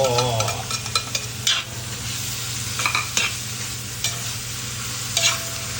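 Ground beef with garlic and onion frying for spaghetti, a steady close sizzle with scraping stir strokes and utensil clinks throughout, no voices.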